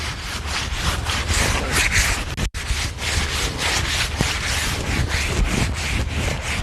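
Steady, continuous abrasive sanding of a wooden staircase in close rhythmic back-and-forth strokes, with a brief dropout partway through.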